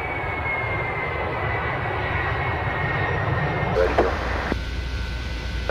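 A light aircraft engine drones steadily and loud throughout a circuit landing approach at Cranfield Airport, with a brief shift in tone near the end as power changes.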